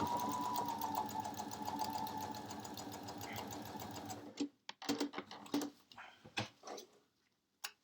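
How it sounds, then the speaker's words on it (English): A sewing machine runs fast and steadily across a quilt block for about four seconds, its dense needle clatter close and even, then stops, leaving scattered light handling clicks and taps. "it should just keep sewing right onto my piece, my block"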